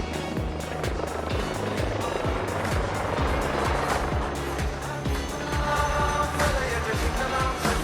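A HAL Light Utility Helicopter (LUH) performs rearward flight at the Aero India air show, its rotor thumping rhythmically under a loud, steady engine roar that fills the whole stretch without pause.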